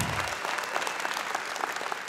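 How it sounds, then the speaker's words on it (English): Crowd at a stand-up comedy show clapping together, a full, steady round of applause from many hands that carries through the whole moment without a break. "Give her a round of applause."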